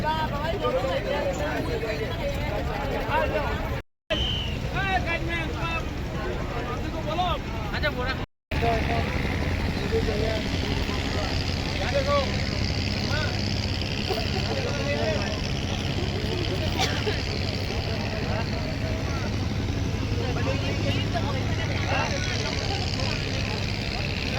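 A boat travels along the Ganges past the ghats of Varanasi, its engine a constant low drone under water wash and distant crowd babble, with people talking nearby throughout and two brief dropouts.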